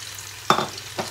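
Chopped onions sizzle in a frying pan for a chicken masala, a soft constant hiss punctuated by two distinct clunks of a spoon stirring against the pan, close up.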